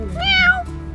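A white cat meows once, a clear, close, rising-then-falling cry about half a second long, with quiet room sound after it and no talking.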